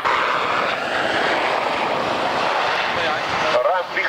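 Aircraft engines run at a military airbase air show, a loud sustained roar with a steady droning hum that stays strong throughout, a brief shift near the end, no clear talk over it.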